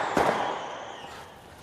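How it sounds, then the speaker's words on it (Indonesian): A single sharp gunshot-like crack rings out from outside in a film scene, then a trailing echo fades over about a second and a half, with no talking. "Tak lama kemudian terdengar suara tembakan dari luar."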